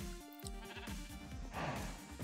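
Sheep in a modded Minecraft survival game bleat in short, repeated game calls, close and clear, with a faint clatter of other game sounds behind.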